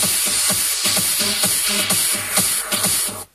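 Effect sounds from a remix in a studio: a loud, steady wash of noisy, shuffling texture with rhythmic pulses underneath, cutting off abruptly at the end.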